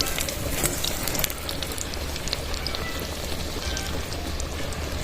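Battered eggplant slices for beguni crackle and sizzle in hot oil, a dense, steady hiss of fine pops and spatters running close and continuous with no voices.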